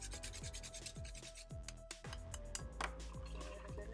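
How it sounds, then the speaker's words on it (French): A cinnamon stick is scraped back and forth over a rasp grater in a kitchen, making close, steady rubbing strokes in a regular rhythm with faint clinks of metal. "avec la râpe, on a juste besoin de la gratter"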